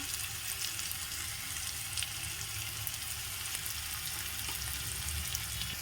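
Onions frying steadily in hot oil for a pabda fish curry, with a continuous, even hiss and sizzle at close range and no voices throughout.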